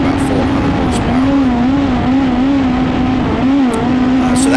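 Honda K20-powered Badger Midget race car engine held at a steady, loud throttle with a wavering drone that rises and dips slightly, close up and continuous with no talk.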